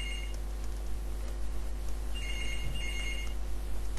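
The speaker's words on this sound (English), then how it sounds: "That's the phone, and I have to ignore it." A telephone rings during a maths lesson, with repeated bursts of electronic ringing heard moderately loud over a steady low hum, with no voices.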